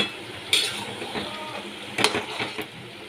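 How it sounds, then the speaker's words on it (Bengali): A spoon scrapes and clinks against a pan while hilsa fish head and ash gourd are stirred together, with a few sharp knocks standing out over a low, steady sizzle. "ভালো করে আমি অনেকক্ষণ অনেকক্ষণ ধরেই নাড়াচাড়া করছি মিশিয়ে দিচ্ছি"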